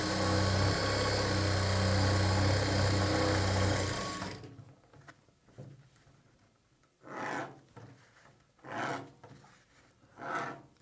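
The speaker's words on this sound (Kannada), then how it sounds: "ರಿವರ್ಸ್ ಮಾಡಿಕೊಂಡು ಲೈನಿಂಗ್ ಮೇಲೆ ಒಂದು ಹೊಲಿಗೆನ ಹಾಕ್ಕೊಳ್ಳಿ" A sewing machine runs a continuous fast stitch on the sleeve lining for about four seconds, loud and close, then stops, leaving quieter handling and rustling of fabric.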